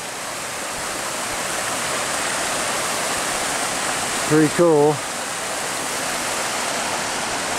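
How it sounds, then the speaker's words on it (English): A mountain creek near an old Colorado gold mine rushes steadily throughout, a loud, broadband flowing-water wash. A voice speaks briefly midway over it. "And there's the creek."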